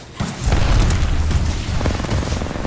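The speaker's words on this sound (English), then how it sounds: "they're just throwing grenades at me" Grenade explosions in Apex Legends, a heavy booming blast that starts abruptly and rumbles on with deep, continuous roar and crackle for a couple of seconds.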